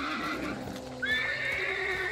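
A horse in the video game Hunt: Showdown lets out a loud, close whinny, its high pitched neigh rising and trailing off over a low rumbling background.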